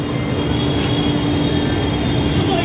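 A Delhi metro train running with passengers aboard, a steady loud rumble and hum of the carriage in motion throughout, with no talk over it.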